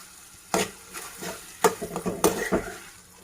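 A spatula stirs vegetable fried rice in a pan, restaurant street style, giving a few scattered scraping and tapping strokes that are fairly soft, with a faint background hum.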